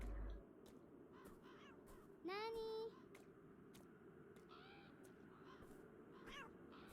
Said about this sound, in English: heard cat noise